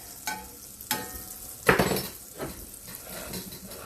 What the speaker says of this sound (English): We're going to saute these Brussels tonight in some margarine.